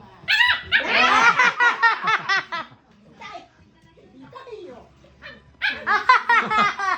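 A pet dog, a Pomeranian, barks in excited rapid bursts up close, with laughter and someone talking in the pauses between volleys.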